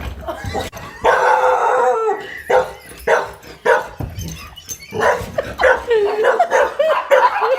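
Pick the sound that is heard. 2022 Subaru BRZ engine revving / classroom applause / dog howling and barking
dog howling and barking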